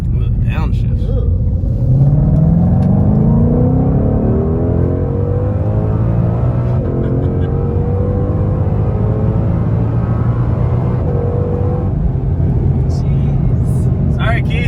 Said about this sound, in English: Ooh, the downshift.